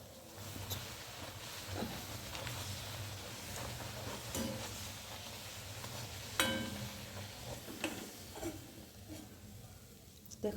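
Green pea kochuri deep frying in oil in a wok, a steady soft sizzle running throughout with occasional clinks and stirring knocks, a few sharper taps standing out near the middle.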